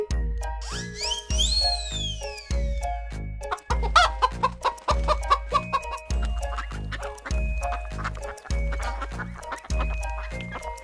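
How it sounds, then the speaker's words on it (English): A hen clucks repeatedly in quick, close bursts over a steady thumping musical beat in a children's nursery rhyme song. "Hen."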